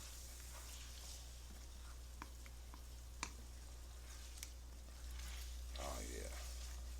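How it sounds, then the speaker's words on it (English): Ground beef sautéing with onions and taco seasoning, a low steady sizzle with occasional stirring scrapes and ticks, growing slightly louder near the end. "you saute in the ground beef"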